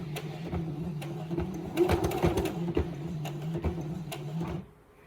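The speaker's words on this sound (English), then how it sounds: "we'll lift up the foot of the sewing machine, and then we'll turn and go our bottom here." A sewing machine stitching waxed canvas runs steadily with a rapid mechanical whir and tapping stitches, stopping abruptly near the end.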